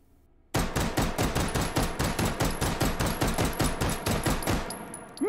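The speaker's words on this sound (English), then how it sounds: "single shot, pistol style, Here we go, firing as fast as I can." Beretta M93R 9x19 pistol in the VR shooter H3VR fired in single shots as fast as possible, a rapid, evenly spaced string of about twenty sharp, loud reports that begins abruptly and stops just as suddenly.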